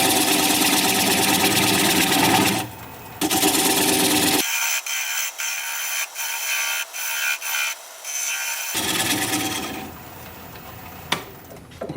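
A bowl gouge cuts a tenon off sassafras spinning on a wood lathe, a loud rushing scrape that stops in the middle into a series of short ticking touches before the cutting hiss resumes.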